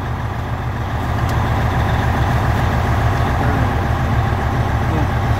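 Truck engine idling inside the cab during a CDL pre-trip inspection, a loud, steady low rumble close by with a constant drone throughout.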